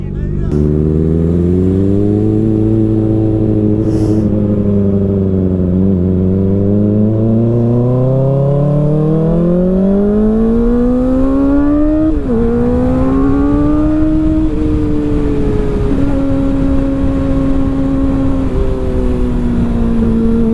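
A motorcycle's engine revs and accelerates through the gears on a first ride of the year, loud and close, with rising pitch sweeps, a gear change, then a steadier cruising drone with wind rumble.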